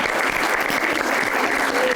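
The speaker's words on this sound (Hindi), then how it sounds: "इस पे तालियां बजनी थी वैसे" Studio audience applause at a talk show, a dense steady wash of clapping that holds evenly loud for the full two seconds with no voices over it.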